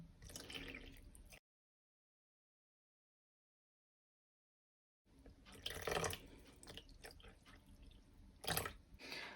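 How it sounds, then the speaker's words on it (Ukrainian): Room-temperature tap water poured into a bowl of sourdough starter, a close trickling and splashing stream broken by a pause of silence, then resuming with a few louder splashes. "Додаю сюди водички кімнатної температури просто з крана, теж 500 грам."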